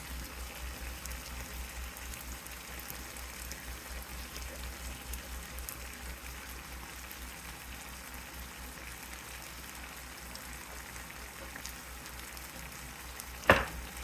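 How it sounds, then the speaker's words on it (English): Zucchini stir fry simmering in a pan with rice vinegar, oyster sauce and soy sauce, giving a steady low bubbling sizzle that holds evenly throughout, with one brief sharp clink near the end and no talking. "I'm going to add the sauce in now so it can simmer in the sauce and get a good flavor."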